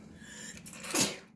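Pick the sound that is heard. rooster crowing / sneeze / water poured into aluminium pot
sneeze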